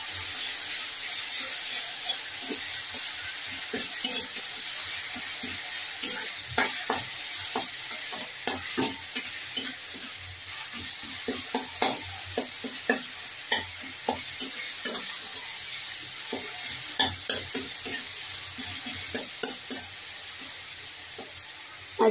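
Chopped onion, garlic and ginger frying in a pan, a steady hiss of sizzling oil broken by repeated scraping and stirring taps of a spatula, close and continuous with no talking.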